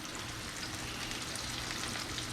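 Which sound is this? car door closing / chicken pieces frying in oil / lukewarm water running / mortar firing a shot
chicken pieces frying in oil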